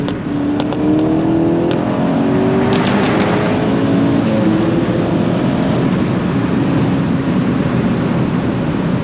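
A Volkswagen MK6 GTI drives past, its engine note rising and sweeping by loud and close before trailing into a sustained roar.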